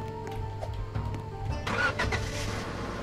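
A vehicle drives downhill in Roblox Lumber Tycoon 2, giving a steady mid-pitched engine hum that swells and roughens partway through. It plays alone with no talking.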